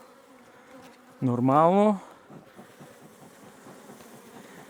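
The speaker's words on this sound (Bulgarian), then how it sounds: "Стръскам пчелите от онази рамка, която ще взема и ги оставям." Honey bees buzz in a brief loud swell as a hive frame is shaken, then settle into a faint steady hum, with a short spoken word over it.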